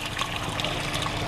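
Water splashes and trickles steadily from a waterfall filter on a goldfish and koi pond, a close, continuous babbling flow with no pauses.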